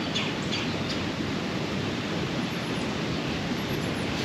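Wind rushes through timber on a cold, blustery Kentucky hunting day, a steady broadband roar with no letup, while faint bird chirps come and go in the distance.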